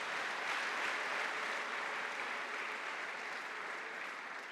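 A church congregation applauds and ululates in a continuous, even wash of clapping with high trilling voices. The sound is fairly soft and distant, with no clear talk over it.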